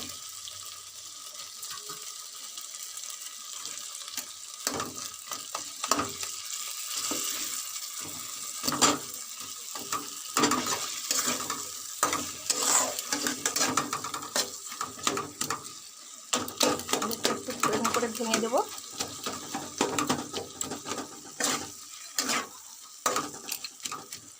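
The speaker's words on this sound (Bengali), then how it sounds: "মশলাটা দেখো তেল ছেড়ে গেছে আমি মাছের মাথাগুলো দিয়ে দেবো" Fish heads frying in spiced oil for a Bengali fish-head and cabbage dish, with a steady close sizzle and frequent scraping stirs that grow busier toward the end; no voices.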